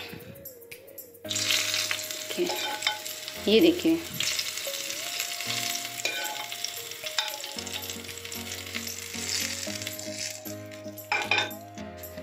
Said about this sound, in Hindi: और अब हम हमारी कड़ी में लगाएंगे तड़का